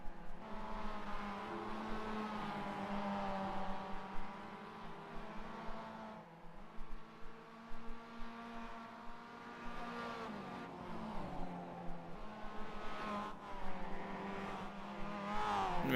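Mazda MX5 race cars lapping Lime Rock Park in iRacing: a steady engine drone with clear harmonic tones that rise and fall through gear changes, with no talk over it.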